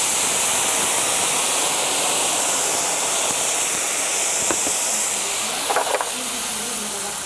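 A loud, steady hiss of steam rises as liquid hits a hot stainless steel frying pan being deglazed, a broad continuous sizzle with a few brief clinks and scrapes near the end.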